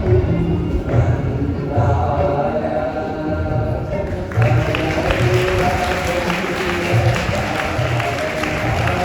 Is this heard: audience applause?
yes